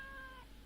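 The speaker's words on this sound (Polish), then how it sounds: "Kot?" A short, quiet cat meow from the video game Alice Mare, a thin tonal cry that slides gently downward over a low steady background hum.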